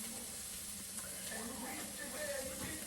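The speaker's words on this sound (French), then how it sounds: "je suis en train de faire cuire mes courgettes" Courgettes sizzle softly in a pan, a faint steady hiss with small crackles and light stirring noises, with nobody speaking over it.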